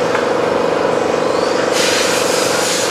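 A Mini-Z front-wheel-drive RC car laps a track, its small motor giving a steady, close, buzzing whine. The sound turns brighter and stronger for the last second or so as the car speeds up.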